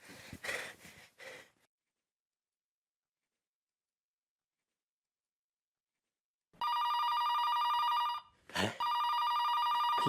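A telephone rings loudly after a long silence, in two sustained electronic bursts separated by a short breath-like sound. Brief vocal sounds come earlier in the clip.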